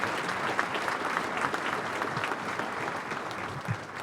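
Sustained applause from the audience at a school awards evening honouring educators and students, dense even clapping from many hands that holds steady for several seconds.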